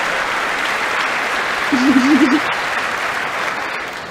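Sustained loud applause from the chamber audience at the State of the Union address, a dense even roar of clapping, with a brief tonal voice-like sound rising over it midway.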